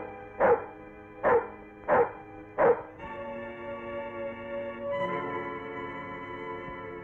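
A dog barks four loud, evenly spaced times at a house, welcoming arriving guests in a Telugu film scene. Sustained tonal music follows and swells toward the end, with no talking.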